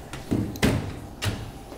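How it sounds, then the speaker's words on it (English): Dishwasher door swinging shut, a few close clunks and bumps in quick succession, the loudest a solid thud followed by a final latching knock, with no talk. "close the door"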